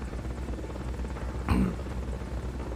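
Helicopter in the video game Metal Gear Solid: Peace Walker gives a steady rotor drone throughout, with a short louder burst midway.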